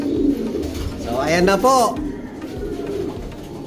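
Checkered pigeons coo close by in a soft, throaty, warbling rumble, with someone speaking briefly over the birds.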